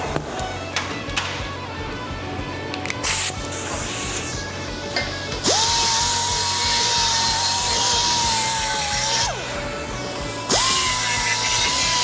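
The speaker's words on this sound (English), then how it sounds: "you're gonna want to deburr inside your holes there" A power tool deburring the inside of drilled holes on a Sportster hardtail frame, first with short sharp clacks, then long steady high whines that stop and restart close by, loud and alone.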